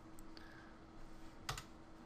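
Keys tapped on a computer keyboard while logging into a website admin page, a few faint quiet clicks with one slightly louder cluster of keystrokes, no talking.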